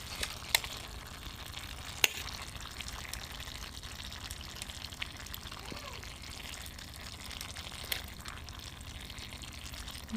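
Vegetables cooking in a pan at home, a faint, low simmering crackle with a few sharp clicks of utensils, quiet and steady with no talk over it.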